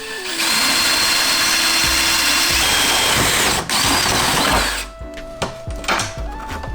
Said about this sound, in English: And then I'm doing it with a smaller bit.